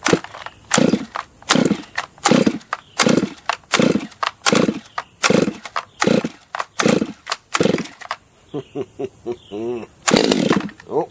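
A small top-handle chainsaw, a clone of the Husqvarna 200T, is pull-started again and again: a run of sharp rasping bursts, loud and close, then the engine briefly catches and sputters near the end.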